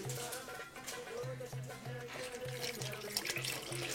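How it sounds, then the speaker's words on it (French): Water running from a tap, poured gradually while making msemen dough, a steady trickle with a faint splash, heard over low background music. "On met l'eau progressivement parce que si on en met trop après c'est fichu."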